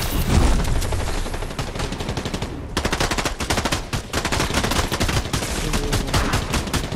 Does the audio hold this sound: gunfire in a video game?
yes